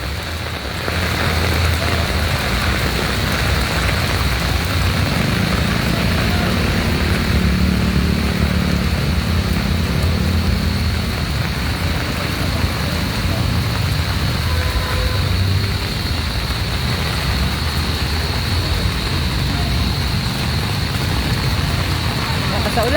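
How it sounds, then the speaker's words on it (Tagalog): Heavy rain pours down in Pasig City, a loud, unbroken roar of water with a low rumble beneath it that stays at full strength throughout. "Pero talagang malakas po ang ulan kasalukuyan"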